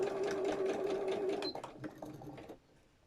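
A sewing machine runs steadily, stitching down the side of a fabric hexie puff bag, a continuous motor whir that stops abruptly partway through, followed by quieter handling sounds.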